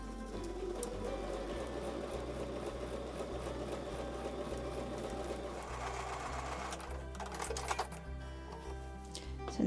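A sewing machine stitches quilt block pieces, running in a steady rapid mechanical chatter with a regular rhythmic thump, close and continuous, ending with a brief clack and no talk.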